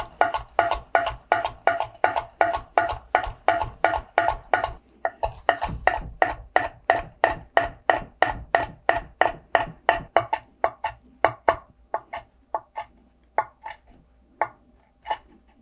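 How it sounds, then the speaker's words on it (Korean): Rapid, steady knife chops on a cutting board as saltwort greens are julienned into even strips. The strokes come close and crisp, slowing and thinning out toward the end, with no voices. "세발나무라고 비슷한 두께로 채 썰어줍니다"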